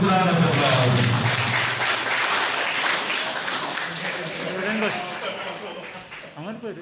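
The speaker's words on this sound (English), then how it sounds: "please give a big round of applause" Applause from a crowd at a journalists' honouring ceremony in Mapusa rolls steadily and loudly, slowly fading, while a voice speaks over it at the start.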